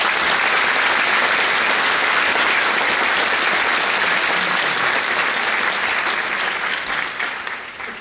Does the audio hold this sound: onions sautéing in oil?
no